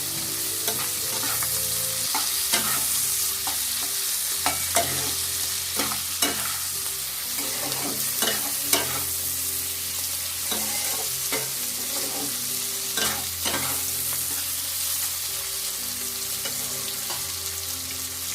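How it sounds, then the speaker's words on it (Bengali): Onion, capsicum and chopped ginger fry in a pan while being stirred, giving a sustained close sizzle broken by repeated scraping strokes of the spatula over about eighteen seconds, without voices. "পেঁয়াজ ক্যাপসিকাম মোটামুটি আমার ভাজা হয়ে গেছে। এর মধ্যে আমি আদা কুচিটা দিয়ে দিলাম।"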